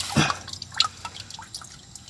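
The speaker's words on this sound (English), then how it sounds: "I'm expecting some oil to drip down any second now" Engine oil drips from the drain of a Ford Focus RS during an oil change, giving a few quick, close liquid drips and a short splash.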